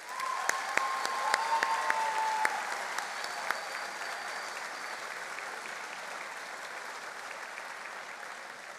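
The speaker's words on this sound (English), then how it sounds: "A huge round of applause one more time." A large audience applauds the graduating class of 2023 at a spring convocation, a steady wash of clapping with a few sharp claps near the start, holding at an even level throughout.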